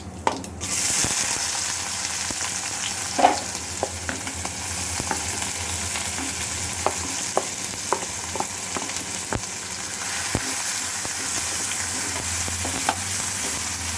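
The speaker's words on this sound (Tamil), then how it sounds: "இந்த எண்ணெய் காஞ்ச உடனே இந்த கடுகு சோம்பு இதை போட்டுக்கோங்க இப்போ நம்ம வெங்காயத்தை போட்டுக்க போகிறோம்" Onions with mustard seeds and fennel fry in hot oil for egg kulambu, a steady close sizzle punctuated by scattered sharp pops and stirring clicks throughout, with no voices.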